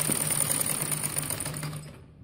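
A sewing machine stitches the hem of a poncha (trouser cuff) in a fast, steady whirring run for about two seconds. It then slows and stops.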